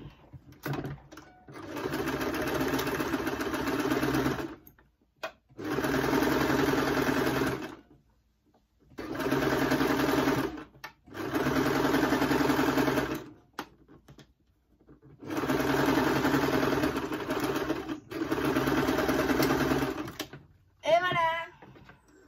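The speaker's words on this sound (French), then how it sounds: "Voilà comment on coud tout le contour du sac." A sewing machine stitches around a bag lining in three long runs of steady, close whirring, each a few seconds long and split by short pauses, ending with a brief clatter.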